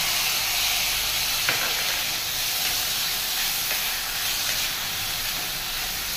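Dry broken wheat (dalia) roasting in a pan gives a steady, close, even hiss and faint crackle that runs unbroken from start to finish, with no voices.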